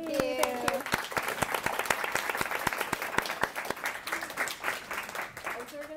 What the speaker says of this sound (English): we'll give a warm round of applause to everyone